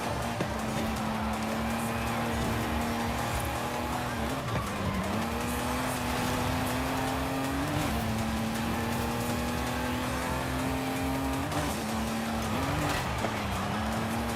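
A car drifts through Forza Horizon 5, its engine holding a sustained loud drone with repeated shifts in pitch as tires squeal through long slides, continuous over the whole stretch with faint talk underneath.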